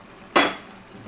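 One brief scraping clatter as butter garlic shrimp are stirred in a pan, set against quiet kitchen background.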